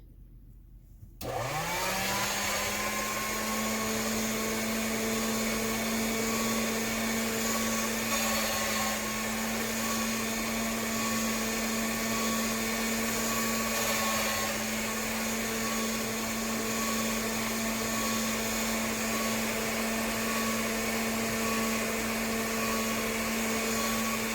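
A motorized pasta-style machine for rolling polymer clay for ornaments hums steadily after a quick spin-up, a constant near whir with no talking.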